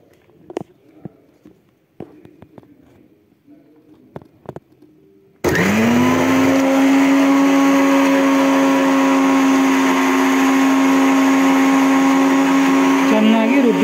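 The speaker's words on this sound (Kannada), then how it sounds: "ಮಿಕ್ಸಿಯನ್ನು ಆನ್ ಮಾಡಿಕೊಂಡು" A kitchen mixer grinder (mixie) jar with soaked ingredients and filtered water switches on about midway and grinds loudly and steadily to the end, after a quiet stretch of faint clicks and handling sounds.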